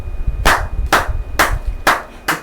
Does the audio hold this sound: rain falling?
no